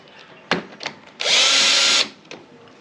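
A power tool spins a bolt loose on a Bajaj Pulsar NS200 motorcycle, a single loud, steady whirring burst of just under a second, close up, with a few light clicks and knocks around it.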